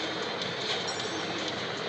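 A train rumbles past in a Tamil-commentated mobile runner game, a steady broadband roar with faint rail clatter that holds at an even, close level for the whole two seconds.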